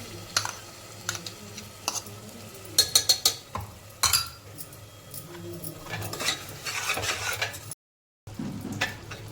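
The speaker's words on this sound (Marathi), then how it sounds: "आता आपण जो मसाला तयार केला तो याच्यामध्ये टाकून घेऊया." A spoon stirs freshly made masala into cooked tomato and onion in a pressure cooker for a soya and pea pulao, giving irregular close scrapes and metallic clinks against the pot, with a brief silent break near the end.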